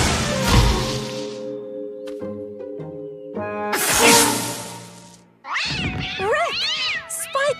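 Tom, the cartoon cat from Tom and Jerry, lets out a series of wild, wavering yowls and caterwauls, loud and close, broken by short pauses and musical stabs.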